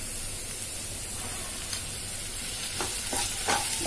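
Ginger garlic paste sautéing with browned onions for a chicken curry, a dense continuous hiss of frying with a few stirring scrapes near the end, close and loud.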